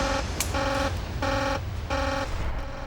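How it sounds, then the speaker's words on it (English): A reactor control room alarm in the Chernobyl plant blares in three regular pulses, each a steady buzzing electronic tone with strong harmonics, loud and close over a low room hum. "He's all too used to alarms like this."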